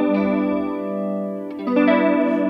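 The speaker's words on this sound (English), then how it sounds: "Yeah, I do get a flangey sound." Kurzweil KSP8 effects unit running a flanger with about 4 ms of delay on a played sustained tone, a sweeping metallic whoosh over the held note, then a new note comes in at the end, close and clear with no voice.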